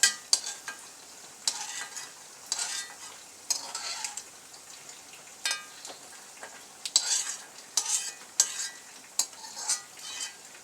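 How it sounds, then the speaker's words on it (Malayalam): Pieces of coconut fry in a pan, crackling softly while a spoon stirs them with quick, uneven scrapes. The sound is close and moderately quiet. "ഈ പരുവത്തിൽ നമുക്ക് തേങ്ങാക്കൊത്ത് മൂത്തത് എടുക്കാം, വറുത്തെടുത്ത് വയ്ക്കാം."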